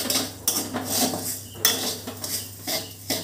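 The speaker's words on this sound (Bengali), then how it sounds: "লো ফ্লেমে রেখেই আমি এটাকে মেশাবো" A utensil scrapes and clinks against a pan as ingredients are mixed over a low flame, in a series of short metallic strokes and taps at close range, with no talking.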